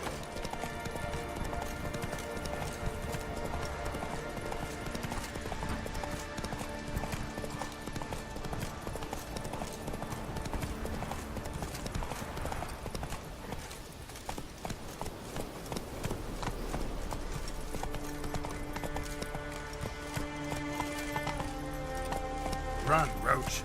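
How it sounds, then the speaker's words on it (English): Horse hooves clip-clopping at a gallop in the video game The Witcher 3, a fast rhythmic patter under game music and ambience, with a voice speaking briefly over it. "Run, Roach"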